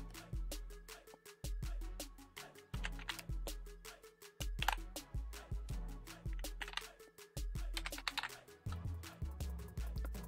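A password is typed on a PC keyboard in a long, fast, close run of clicky keystrokes, with a low background bed of sound underneath and no speech.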